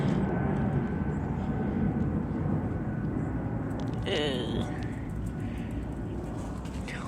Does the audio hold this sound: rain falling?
no